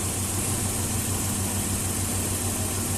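A car engine idles steadily at about 850 rpm during a high-frequency MAF sensor test, giving a constant low hum that holds level with no revving throughout.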